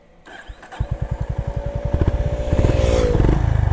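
Honda CB350 RS motorcycle cranking over with rapid rhythmic chugs, then catching and settling into a loud, close, thumping idle.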